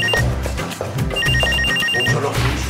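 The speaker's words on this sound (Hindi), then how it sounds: "अंदर फोन बज रहा है" Telephone ringing indoors with a steady electronic bell pattern of repeated tones, heard over low background hum and noise in a domestic scene.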